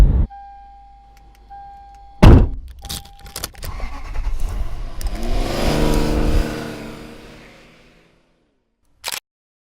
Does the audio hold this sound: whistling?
no